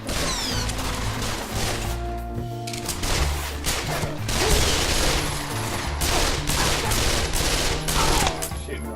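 Sustained gunfire in the VR shooter Pavlov, on a Dust 2 map, arrives as rapid overlapping volleys. It is steady and close throughout, with faint game sounds running beneath it.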